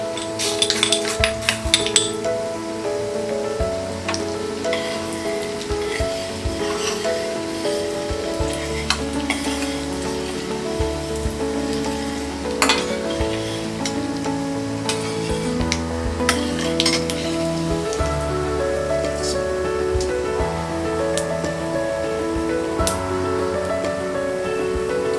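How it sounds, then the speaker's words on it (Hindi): Chana dal and urad dal frying in oil in a pan for an ivy gourd (tindora) fry, a continuous close sizzle with repeated stirring scrapes and occasional clinks of a utensil against the pan. "चना दाल और ये उड़द दाल फ्राई हो गया है"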